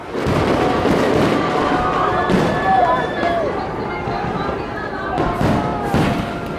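Fireworks burst repeatedly over La Ronde amusement park during a ride on the Goliath roller coaster, a loud, busy outdoor scene with booms and crackles rising over crowd noise and chatter.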